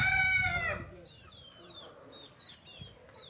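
A rooster crows loudly at the start, then fades into a quieter backdrop of distant birds chirping and faint outdoor noise, at a gamecock farm in Pagsanjan, Laguna, Philippines.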